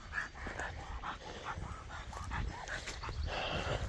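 A dog near an old train bridge in Keithsburg yips and whimpers in repeated short bursts over steady outdoor background noise, fairly close and at moderate loudness.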